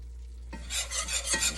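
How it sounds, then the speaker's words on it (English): A flour roux toasting in a pan is stirred and scraped from the bottom, bringing up browned bits; after a brief quiet start, three close rasping spoon strokes sound over a steady soft sizzle, with no voices. "each time you stir it up from the bottom, it brings some little brown bits up with it."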